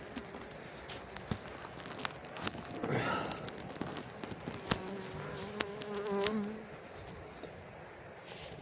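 Honeybees clean out their hive, making a dense, continuous close buzz with individual bees droning louder as they pass near, amid light bumps and knocks.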